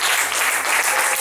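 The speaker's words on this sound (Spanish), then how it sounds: "Vamos a dar un fuerte aplauso al Señor" Church congregation applause during a Spanish-language worship service: a short, loud, dense burst of clapping that sounds close.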